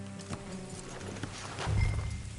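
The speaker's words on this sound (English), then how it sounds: "Let's leave the horses here and go to rest on foot" Brief clip-clop of horse hooves at a walk in a video game, mid-distance, with a low rumble swelling near the end.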